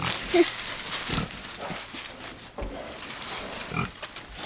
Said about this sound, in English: I think Mojo come down to say goodbye to his piggies.